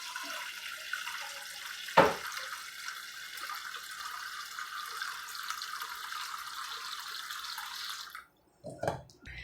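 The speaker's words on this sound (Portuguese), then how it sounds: "então eu vou lá colocar na panela uma água e já vem." Tap water pouring steadily into a cooking pan in a home kitchen, a continuous hiss broken by a brief clunk near the start, ending with a few faint drips and knocks after the flow stops.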